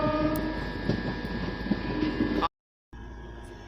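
A Machilipatnam to Vijayawada MEMU train gathers speed with a loud, sustained horn over the rumble of the coaches, followed by a brief dropout before the running noise resumes.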